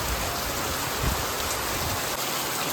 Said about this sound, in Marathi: पाऊस आणि वारा दोन्ही आहे आता